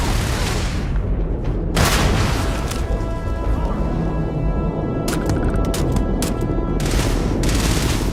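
Heavy gunfire in the video game Starfield, a sustained barrage of rapid shots and booming blasts with bursts of automatic fire, loud and continuous throughout.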